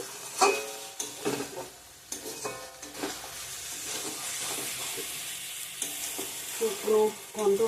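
Ridge gourd and potato frying with spices in a pan for moong dal, the wet masala sizzling and crackling steadily while a spoon scrapes and stirs in irregular bursts close by.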